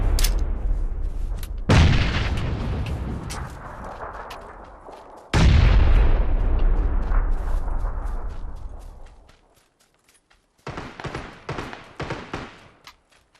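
In PUBG, a grenade blast erupts with a loud, booming burst, followed by a second heavy explosion rolling off slowly, then a pause before a rapid string of gunfire cracks.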